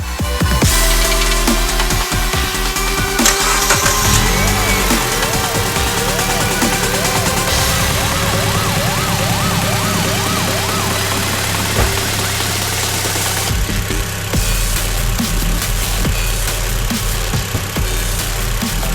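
A Mitsubishi Lancer's engine idles steadily and loudly throughout, a continuous low rumble with a faint knocking texture and vibration. It holds level the whole time with no talk over it.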